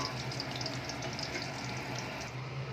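Chicken kofta frying in hot oil in a home kitchen, a steady, continuous sizzle and bubbling hiss that holds at an even level throughout with no talking.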